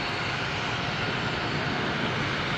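Ryanair airliner rolling past at Manchester Airport, a loud, steady broadband jet roar that fills the whole moment without letting up.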